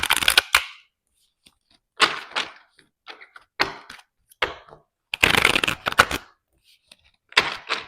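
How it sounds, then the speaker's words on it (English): Thick tarot cards being shuffled in a series of short, crisp riffling bursts separated by pauses, close and fairly loud. "These cards are kind of thick."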